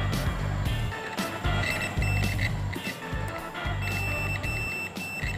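A multimeter beeps while testing a motorcycle starter relay, giving a steady, high electronic tone that holds through the clip over a noisy, clattering background.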